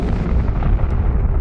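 A deep, rumbling explosion effect meant as a supernova star blast roars steadily and loudly throughout, a dense low boom with no voices.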